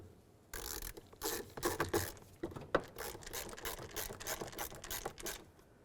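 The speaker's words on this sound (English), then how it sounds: "Now we can put in our Phillips head screw." A Phillips head screw driven in while refitting a front door lock actuator on a 2000-2005 Buick LeSabre gives irregular close ratcheting clicks and scrapes in short bursts, with no talk.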